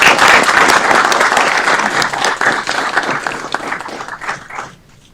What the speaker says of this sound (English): Let's give Fatima a round of applause.